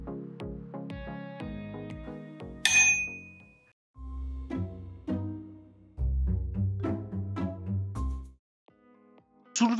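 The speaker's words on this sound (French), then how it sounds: "Installez la sonnette et vérifiez qu'elle fonctionne." A newly installed bicycle bell rings in a series of bright, clear dings with short pauses between them, close and loud, with brief clanks in between.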